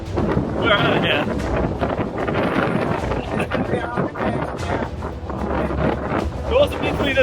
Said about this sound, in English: I don't want to spend all night lying here listening to the wind